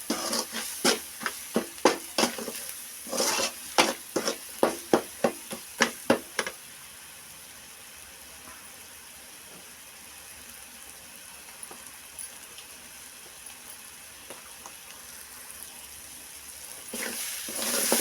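Drumstick masala curry in a pan, with a run of quick sharp knocks and sizzling bursts at first, then a quiet steady hiss of simmering, and a few faint knocks near the end.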